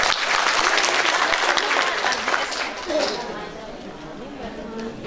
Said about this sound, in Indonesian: Untuk ahli gizinya tepuk tangan dulu semuanya.